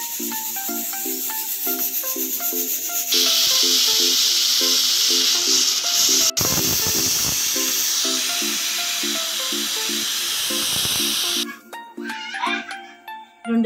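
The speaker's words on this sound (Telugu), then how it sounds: "విజిల్ వచ్చినాక కుక్కర్ మంట తీసేద్దాము." A pressure cooker hisses steam loudly and continuously for about eleven seconds, a rhythmic rattling pulse running beneath the hiss before it drops away into quieter clatter.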